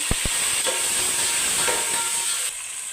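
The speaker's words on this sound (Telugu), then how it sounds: "జీలకర్ర, మెంతులు వేసేస్తున్నానండి. ఆనియన్, టమాటా ముక్కలు వేసేస్తున్నానండి." Onion, tomato, cumin and fenugreek frying in a pan make a loud hissing sizzle, opened by two quick clinks, then settling into a steady hiss that eases at the end.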